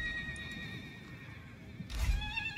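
A horse neighs in the Total War: Warhammer video game, a loud whinny rising over game ambience and a steady tonal hum, with faint clip-clop and no voices.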